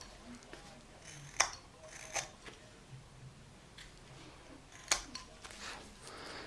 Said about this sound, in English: I'm going to take my knife and just right up the side of the nose, just trim a little bit off to make them match